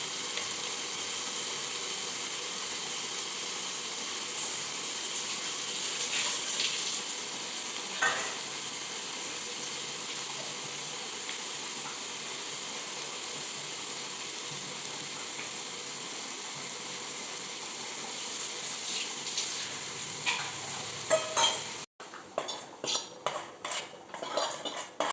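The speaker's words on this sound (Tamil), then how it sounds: "இப்போ மாங்காய் இது இன்னும் கொஞ்சம் எண்ணெய் ஊற்றி தாளிச்சு மசாலாப்பொடி போடணும்" Raw mango pickle is tempered in hot oil with masala powder and stirred with a metal spoon, making a steady close sizzle with scattered scrapes and a burst of sharp clinks near the end.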